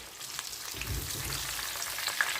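Catfish fillets frying in oil make a soft, steady crackling sizzle close up, with a faint low bubbling rumble joining partway through; no talking.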